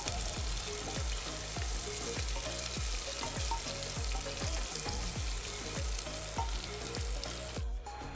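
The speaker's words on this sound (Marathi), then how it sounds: "लसूण आणि थोडासा कढीपत्ता आहे. तो पण छान भाजून घेऊया." Garlic and curry leaves fry in hot oil with a steady, loud sizzle, punctuated by a regular series of stirring clacks from a spoon against the pan throughout, with no talking.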